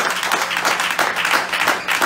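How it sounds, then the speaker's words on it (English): Audience applause at a political fundraising event in Columbus, Ohio, a sustained, even patter of many hands clapping, moderately loud and near, with no talk over it. "A round of applause for Sowore himself."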